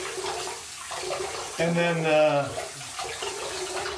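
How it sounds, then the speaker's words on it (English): Hot water runs from a tap into a sink while a safety razor head is warmed under it, a steady splashing rush that swells midway, with someone talking briefly over it. "I'm just gonna heat up the razor head a little bit here in some hot water."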